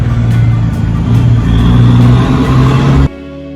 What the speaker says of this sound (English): Sounds like a Nice truck.